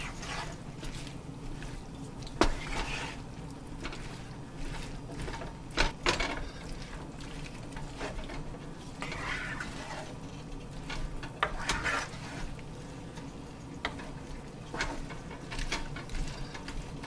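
Chicken stirred in a pan for Thai chicken: a continuous soft sizzle with repeated scraping and clacking from a utensil against the pan, irregular and close, without talk.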